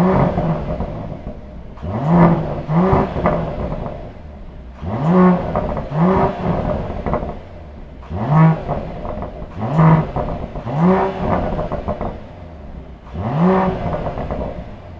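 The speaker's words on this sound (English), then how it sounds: "you have the AMG Performance Exhaust System, which features flaps that can be controlled by AMG Dynamic Select in the car" A 2021 Mercedes-AMG GLE 53 4MATIC+ Coupe with a 3-liter turbocharged six-cylinder and AMG Performance Exhaust revving repeatedly: about six sharp rising throttle blips in a steady rhythm, loud and close, each falling back to a burbling idle.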